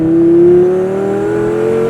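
A cheap Lamborghini accelerating at about quarter throttle on a straight road, a loud steady engine tone rising smoothly in pitch over a couple of seconds.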